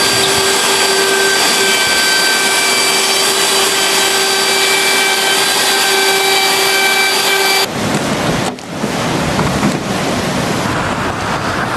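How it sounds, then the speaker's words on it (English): Festool guide rail track saw cutting decking boards on a job site, a loud steady high whine with tonal hum that cuts off sharply partway through, followed by rougher broadband noise and clattering. "With this guide rail saw, I can dial in the depth to within 1 millimeter."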